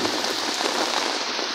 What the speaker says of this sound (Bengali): আল্লাহর রহমতের বৃষ্টি হচ্ছে, প্রচুর পরিমাণের বৃষ্টি হচ্ছে